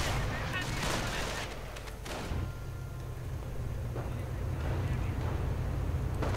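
Dense gunfire and explosions from a 1v1 real-time strategy battle, with rifle infantry being gunned down and tanks in the fight, sounding as continuous loud crackling bursts with deep rumbling booms throughout, under a commentator's voice.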